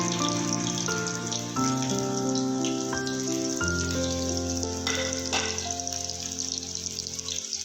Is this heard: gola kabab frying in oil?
yes